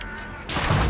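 A shot fired with the right mouse button in the online game Neverwinter: a sudden loud, broad blast bursting in halfway through and holding over a busy game soundscape.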